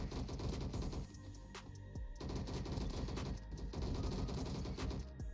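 Sustained bursts of light machine gun fire from a Roblox Bad Business match, dense and continuous rattling with overlapping shots throughout, no voices.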